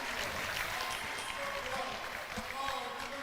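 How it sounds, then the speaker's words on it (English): Crowd in a packed college basketball arena at a Yeshiva Macs versus Illinois Wesleyan Titans game, a continuous roaring, cheering wash of many voices heard at a distance, filling the whole moment without clear individual calls. "Listen to this crowd, Yehoshua."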